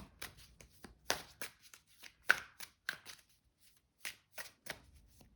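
Tarot cards being shuffled by hand in irregular bursts of crisp riffling and tapping, close up, with quiet pauses between.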